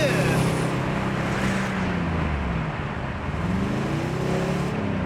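A cheap Mercedes 500E driving in second gear, a steady loud engine drone with shifting tonal lines as revs rise and fall, with road and wind noise throughout.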